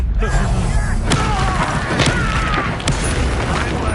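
Hogwarts Legacy spell blasts from Bombarda and Confringo, several heavy booming impacts and thuds landing one after another over a dense background of game combat noise and effects.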